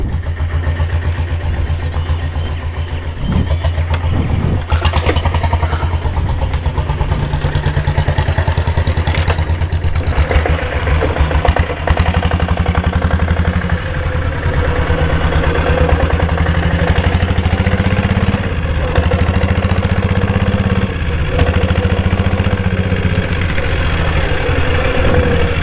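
Diesel Royal Enfield Bullet engine idling, a loud, steady low thumping beat with a rhythmic mechanical tapping of cam noise running through it, heard close up with no talk.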